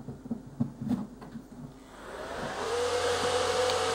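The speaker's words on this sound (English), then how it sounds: "So both of our fans are whirring away." Two cooling fans on a Peltier cooler spin up after some handling clicks, then settle into a steady airy whir that grows louder and holds to the end.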